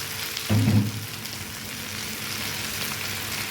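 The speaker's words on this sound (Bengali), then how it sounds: "আমি ভালো করে এই সবজিগুলোর সাথে আমি কষাতে থাকবো" Fish and vegetables frying in a pan for Bengali macher ghonto, a steady low sizzle with one brief louder scrape of stirring near the start.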